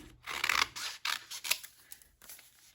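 Scissors trim paper for a junk journal in a series of close, rasping cuts and slides, coming in uneven bursts with short pauses.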